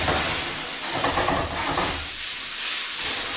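Tomatoes hit hot oil in a pan with a loud, continuous sizzling hiss that rises into a flare-up, a broad steady crackle close by with no talking.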